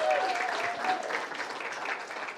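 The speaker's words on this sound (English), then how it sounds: "Can we give them a round of applause for these kids?" An audience applauds a group of kids who spent the day doing service work, a continuous wash of many hands clapping, fairly close and steady throughout, with a faint whistle near the start.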